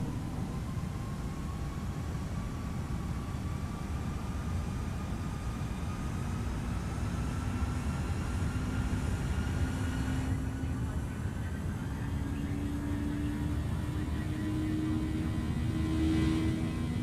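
Airbus A320 climbing after takeoff in Microsoft Flight Simulator, a steady, dense engine roar with a slowly rising whine running without a break, and no voices.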